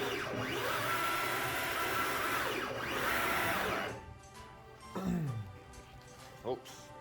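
A hobby CNC machine runs a job on a first project, giving a loud, steady mechanical whine with rising and falling tonal sweeps for several seconds before cutting off into quieter movement sounds and a brief motor sweep.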